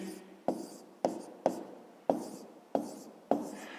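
A pen writes an answer by hand on paper, heard as six or seven quick, faint scratching strokes spaced about half a second apart, close and quiet, with no talking.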